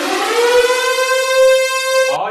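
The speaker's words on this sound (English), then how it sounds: "Sound the anniversary siren!" Anniversary siren sound effect, a loud, steady wailing tone with a rich stack of harmonics that holds for about two seconds before cutting off abruptly.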